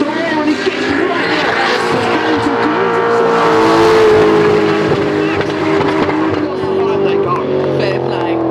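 Drift cars battle at the British Drift Championship, Three Sisters circuit, with engines roaring loudly and steadily at high revs and tyre noise mixed in, under excited commentary.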